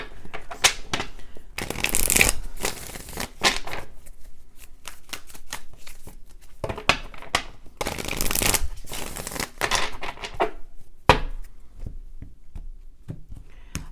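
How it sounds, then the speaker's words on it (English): Tarot cards are shuffled over and over at close range, with crisp riffling bursts and soft papery slaps in an uneven rhythm and quiet gaps between them. "let me shuffle a little more"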